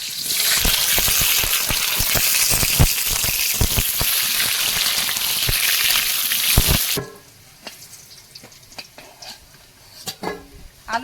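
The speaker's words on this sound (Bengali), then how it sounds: "কড়াইতে তেল দিয়েছি এবারে মাংসের আলুগুলো ভাজবো" Potatoes for a mutton curry frying in oil in a kadai: a loud, dense sizzle with rapid crackling fills the first seven seconds, then drops to quieter scattered clinks and faint sizzling.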